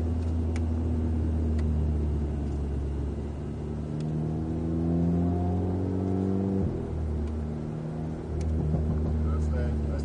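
An Alpine car's engine revs and accelerates on a track with rising pitch, dips briefly as it shifts, then climbs again, with someone talking over it.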